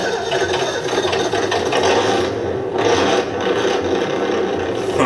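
Electronic sound unit in a Tamiya XV-01 RC car playing a simulated engine starting up and settling into idle, a continuous buzzy, rumbling drone heard close and fairly loud with slight swells, and no voices.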